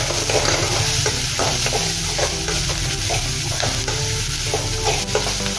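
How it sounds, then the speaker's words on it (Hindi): Onion and green chilli sautéing in oil in a pan, a continuous close sizzle broken by frequent spatula stirring and scraping strokes, with no voices. "ज्यादा नहीं भूनना है, सिर्फ नरम ही करना है प्याज और हरी मिर्च को।"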